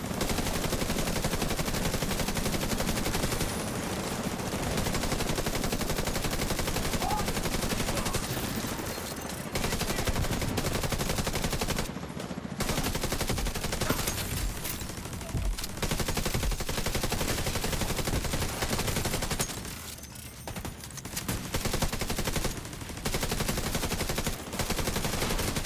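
Continuous rapid gunfire in a military shooter video game, players shooting at jammers; dense, loud automatic bursts with brief pauses, filling the whole stretch, with little talking.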